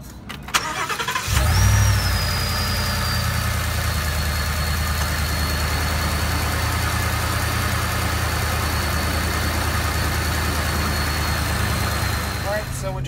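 A Roush Phase 2 650 hp supercharged Ford F-150 engine starts with a sudden loud crank and catch, then settles into a steady, close idle with a thin supercharger whine holding above the deep rumble for the rest of the clip.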